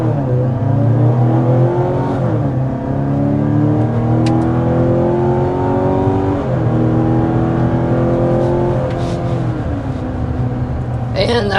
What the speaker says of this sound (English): we're going to start with a hard acceleration and see what this plug-in hybrid has to offer